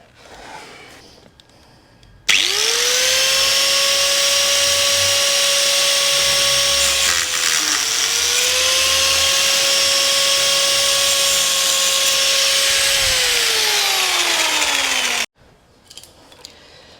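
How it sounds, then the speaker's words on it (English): A power tool cuts through a motorcycle's rear foot peg on a Suzuki VL250 bobber, a loud, close, steady whining grind lasting about thirteen seconds, with a brief pitch dip midway before it winds down and stops. "I'm going to cut this rear foot peg off on either side."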